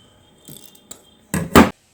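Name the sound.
cutting wire for a handmade wire tree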